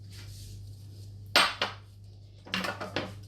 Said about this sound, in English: Give it a good mix to bind everything together and to make it smooth.